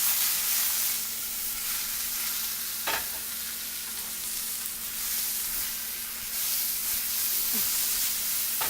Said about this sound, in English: we're going to go ahead and add some sliced mushrooms and shallots and give those a quick saute